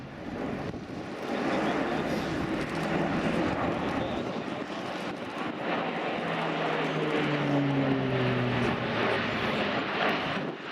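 An Airbus A400M turboprop transport flies a display at an air show, its propeller drone loud and sustained throughout with a falling pitch as it passes, and a voice is heard faintly.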